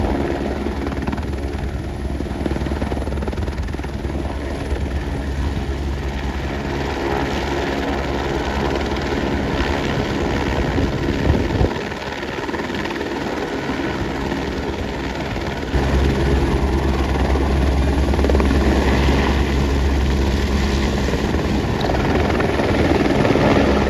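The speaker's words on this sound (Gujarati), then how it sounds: "સામે છે મંદિર ને અત્યારે શું હેલીપેડે, તો હેલિકોપ્ટર આવે તો તમને પણ બતાવું." A helicopter arrives at the Kedarnath helipad near the temple in the mountains, its steady rotor thrum loud and continuous throughout, swelling closer toward the end with no talking.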